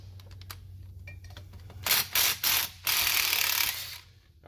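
Snap-on ratchet and socket spinning a nut off a Marmon clamp on a 6.0 Powerstroke turbo, heard as a few quick bursts of close, loud ratcheting clicks with short pauses between.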